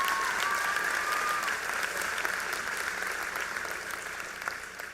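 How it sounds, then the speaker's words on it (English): A graduation audience applauds Kelly, a sustained wash of clapping that stays strong and then gradually fades over five seconds, with a faint whistle-like tone early on. "let's give Kelly a round of applause."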